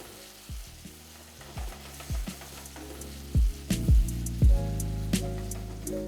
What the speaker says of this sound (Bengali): 3 থেকে 4 মিনিট কুক করলেই দেখবেন আস্তে আস্তে কিন্তু টমেটোটা গলতে শুরু করবে